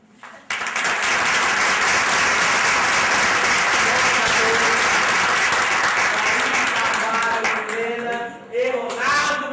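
Sustained audience applause fills the room for about nine seconds, dense and loud from start to finish, with a brief dip near the end.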